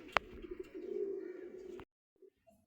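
A pigeon in a pigeon loft gives a low, steady coo lasting over a second, opened by a sharp click and followed by faint, scattered bird sounds.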